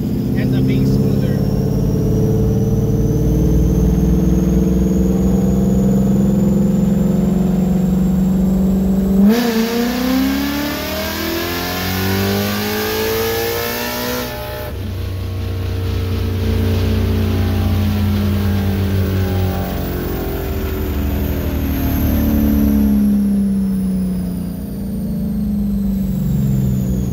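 A Coyote-swapped Ford Fairmont Fox body revs hard on a dyno run, its engine climbing steadily in pitch through the gears and then easing off, loud and close throughout.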